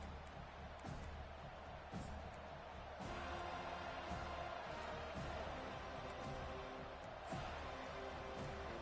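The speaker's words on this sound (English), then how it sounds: "This crowd trying to make life miserable for this offense." Stadium crowd noise in a football video game, a dense steady roar of many voices with occasional swells and thumps, while a commentator's voice talks over it.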